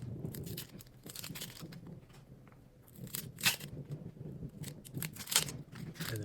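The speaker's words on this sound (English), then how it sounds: "you can start to take the skin off the outside." Papery onion skin peeled by hand off a quartered onion, dry crinkling and tearing in irregular bursts, close and faint, with quiet gaps between pulls and no talking.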